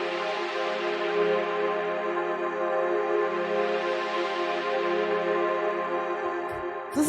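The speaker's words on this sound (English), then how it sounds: "After that, we have the pad, which sounds like this." A layered synth pad from an ambient techno track, a sustained, dense harmonic chord drone holding steadily for several seconds with a gentle swell before fading slightly at the end.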